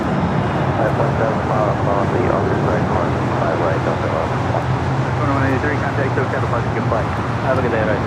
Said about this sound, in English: Horizon 2183 taking off to Las Vegas on the E175 Washington State Cougars livery.